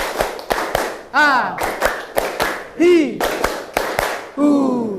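An elementary classroom counts off rhythmic group claps in bursts of one, two and three sharp hand claps, with a teacher's voice calling between them.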